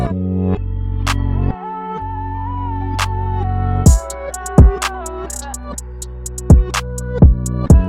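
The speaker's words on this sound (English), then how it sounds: "Just a simple clap pattern to start off with." A programmed beat: sharp claps in a simple repeating pattern join punchy kicks over a sustained synth melody, loud and close.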